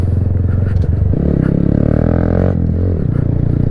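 Motorcycle engine droning steadily and close throughout, with a rhythmic low exhaust pulse and a shift in tone partway, as the bike rides along a quiet back road.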